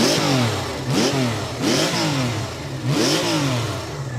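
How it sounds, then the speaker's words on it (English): A 1979 Benelli 750 Sei six-cylinder motorcycle engine revs up repeatedly, each smooth rising howl climbing quickly and dropping back, loud and close, four bursts in quick succession. "It revs so freely and so easily."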